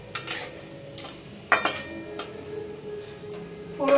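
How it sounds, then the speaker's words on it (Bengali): Tempering spices frying in a pan for khichuri, stirred with a utensil that gives a few sharp metallic clinks and scrapes against the pan over a quiet background, close up and without talk. "এই কটাকে একটু ভালো করে নাড়াচাড়া করে ভেজে নিচ্ছি।"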